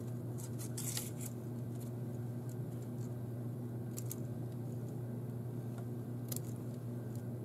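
Quiet, scattered snips and crisp cutting sounds of scissors cutting a paper stencil come in short bursts over a low steady hum, faint and close by.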